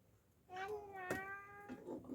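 A cat lets out a long, drawn-out meow followed by a shorter one, close by against a quiet background.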